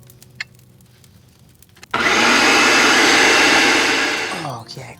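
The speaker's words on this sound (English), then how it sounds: "put it into a blender, food processor, something just to blend it all together and emulsify" A countertop blender kicks on abruptly and whirs loudly at a steady pitch for about two and a half seconds while mixing an owlbear milk latte mixture, then winds down. Quiet handling sounds come before it.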